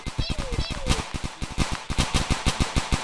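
Rapid video game gunfire crackles in quick steady bursts, loud and close, with a player talking over the shots.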